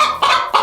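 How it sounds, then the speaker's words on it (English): A chicken in a coop gives three quick, loud, close clucks in a short burst. "You need to go out there with the other chickens."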